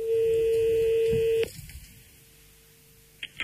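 A telephone ringing during a radio prank call: a steady loud ring tone that cuts off abruptly, followed by a brief click and faint line noise before a short tone burst at the end.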